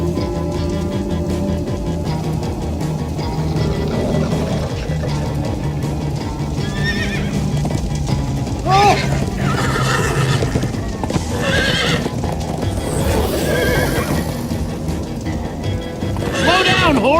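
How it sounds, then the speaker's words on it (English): Minecraft: Story Mode horses whinny repeatedly over steady clip-clopping hooves, galloping at a quick pace, with music and voices mixed in throughout. "Slow down, horse!"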